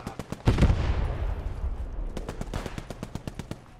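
Rapid gunfire in Post Scriptum, a World War II shooter set in the Battle of France: a sharp close shot followed by a decaying rumble, then a steady rhythmic string of automatic rounds that grows slightly louder near the end.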